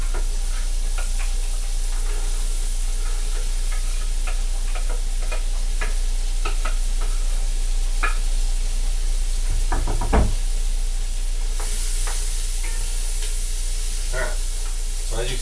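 Onions, carrots and celery sauté in butter and olive oil in a pot, a continuous sizzle under a low hum, with scattered utensil knocks and stirring scrapes and a short hard clatter near the middle.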